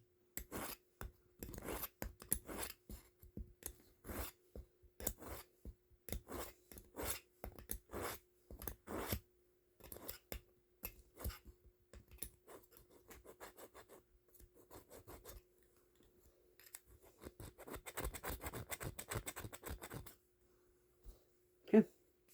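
An SOA scout knife is sharpened with repeated rasping strokes in an uneven rhythm and quiet pauses, followed by a denser run of faster scraping.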